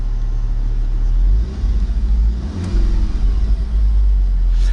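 A 2016 VW Golf R five-door sits idling in race mode, its engine giving a deep, steady, hardened rumble close by, with a slight dip and recovery partway through.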